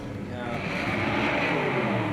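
A Toyota 2JZ-engined drift car at a D1NZ pro championship qualifying round in Wellington roars on the rev limiter, a loud, sustained, rising engine blare filling the whole moment.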